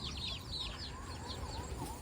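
Desi free-range country chickens near a goat-rearing shed cluck in soft, repeated short calls, faint and somewhat distant over a steady outdoor background hiss.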